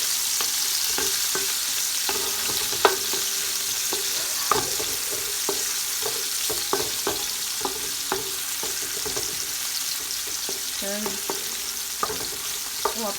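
Chopped onion and garlic sizzle steadily in oil in a large pot, with repeated clinks and scrapes of a utensil stirring at an irregular rhythm.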